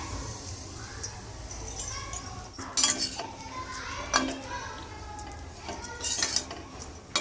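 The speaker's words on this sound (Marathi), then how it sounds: "आता आपण खोबरं भाजून घेऊया" Grated coconut dry-roasting in a pan for methi dink ladoo, with a spatula scraping and clinking against the metal in irregular bursts over a low steady background.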